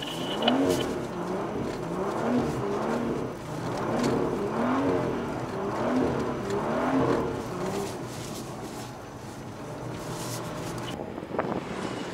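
A BMW M2 at full throttle on a winter drift track at Lungauring, Austria, its engine rising and falling in repeated rev sweeps, heard from inside the car with wind noise.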